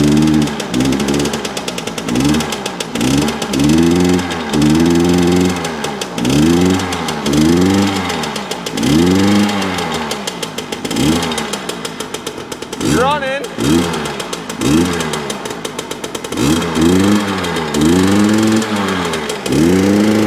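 Yamaha PW80 dirt bike engine running rough on too much choke, its loud two-stroke note surging and sagging in a rhythmic pulse close by, with people talking over it.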